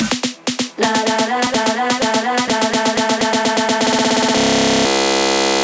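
Chopped DJ loop over a busy section of drums and melodies, cut shorter and shorter so the hits stutter faster into a rapid buzzing repeat, then settling into a sustained droning tone; loud and alone, without talk.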